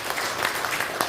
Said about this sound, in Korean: 여러분 이의가 없으면 박수로 맞이해 주시기 바랍니다.